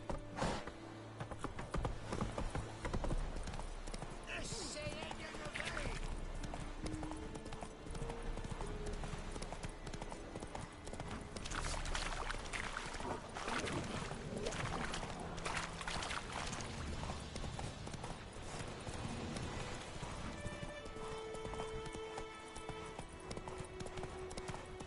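Roach the horse galloping in Witcher 3: continuous rhythmic hoofbeats at steady pace layered over a dense game soundscape of music and ambience, with no talking.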